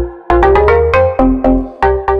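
Bass preset on the Massive synth with a marimba-like tone, playing a short melodic riff of plucked, bouncy notes, each attack decaying quickly, loud and alone.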